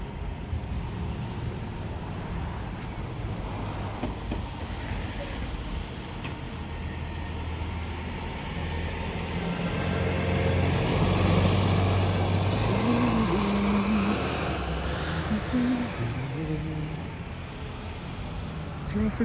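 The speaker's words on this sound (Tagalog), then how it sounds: "Traffic oh. Labasan sa school." Cars and buses crawl past outside a school at dismissal time, a steady roadway rumble that swells midway as engines pass nearby, with someone talking over it.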